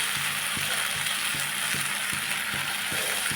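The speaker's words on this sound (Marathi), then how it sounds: "अगदी फुल गॅसवर परतून घ्यायचं आहे त्यांना फक्त एक मिनटं" Corn manchurian stir-fried in a pan over a full flame gives a steady, loud sizzle with regular metallic scrapes and clicks of a spatula against the pan, and no voices.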